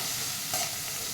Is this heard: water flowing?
no